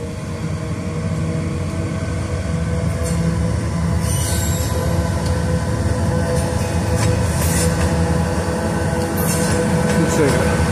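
An EMD SD40-2 locomotive leading a mixed manifest freight train at Oakland Junction, a loud continuous rolling rumble of rail cars with intermittent high wheel squeals close by.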